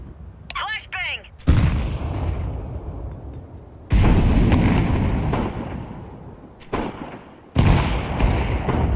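Flashbang grenades bursting in Counter-Strike 2 gameplay, several loud, sharp detonations each followed by a sustained ringing, noisy tail, with a brief voice-like chirp at the start.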